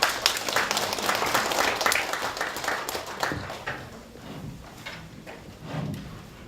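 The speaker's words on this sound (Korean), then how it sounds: "이영석 신부님을 박수로 맞이해주시기 바랍니다." Applause from an academic Buddhist studies workshop audience welcoming a priest to speak, strong massed clapping that fades and thins into scattered claps before a final small swell.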